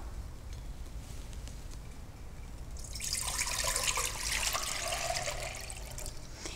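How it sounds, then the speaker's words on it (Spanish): Water poured into a pot to be boiled in a kitchen: a quiet stretch, then a steady splashing pour starts partway through and keeps running to the end. "Vamos primero a hervir agua."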